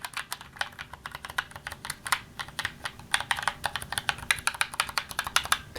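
Rapid clicking of mechanical keyboard keys being typed on up close, an uneven stream of sharp clacks with no voices.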